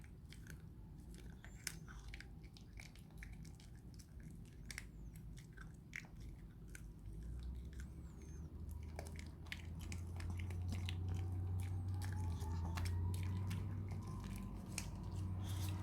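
A 13-year-old dog chews hard food up close, with a steady run of crunchy bites and gnawing clicks over a low background hum. No one speaks.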